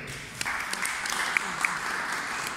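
Audience applause fills a room at a Greek presentation event, a steady, dense clapping that holds at an even level throughout with a few sharper claps and faint voices mixed in.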